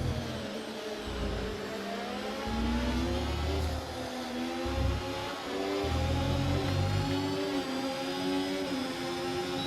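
An F1 race car engine in the F1 24 video game on the Imola circuit revs and changes pitch through gear shifts, a loud, continuous whine with rising and falling tones and no talk.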